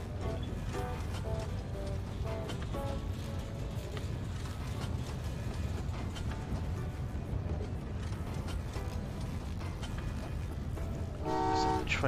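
Trains in Train Valley 2 on an Antarctica map sound short horn toots, a few brief tones in the first seconds and another clear toot near the end over a low rumbling game backdrop.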